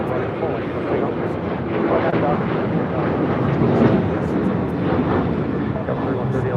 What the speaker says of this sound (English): We do have an American 737-800 now rolling down 25 right.